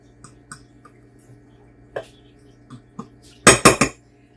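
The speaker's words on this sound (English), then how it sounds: "Grabbed a fork, kind of mix this up a bit." A metal fork scrapes and clinks against a bowl while mixing food, with sparse light taps at first and then a quick cluster of louder, close clatters near the end.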